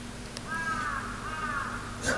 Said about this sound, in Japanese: カラス鳴いてんな。